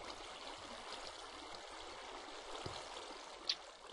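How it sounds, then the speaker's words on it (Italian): Water flowing down into a room in the block-building game Minecraft makes a steady, even rush with a faint trickle, holding at a constant level throughout with a small splash near the end. "Così facendo abbiamo riempito la stanza d'acqua che scorre verso il basso."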